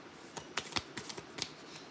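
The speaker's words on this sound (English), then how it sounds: "Just do a little shuffle here." Eternal Light oracle cards being shuffled by hand, a series of crisp riffling slaps and rustles at close range, quiet between the bursts, with no talking.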